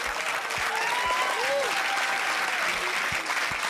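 A crowd applauds steadily and loudly throughout, watching a live broadcast of the SpaceIL Beresheet spacecraft landing on the Moon, with a voice speaking faintly over the clapping.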